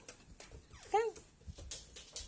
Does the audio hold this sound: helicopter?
no